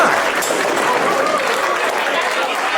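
Wrestling crowd at a tag team match applauding, dense steady clapping and cheering from a large audience, with a voice faintly mixed in.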